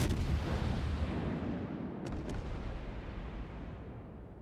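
Kirov cruiser in World of Warships firing an armour-piercing salvo at a Marblehead: a loud, booming blast that rolls off into a long rumbling decay, alone with no talk.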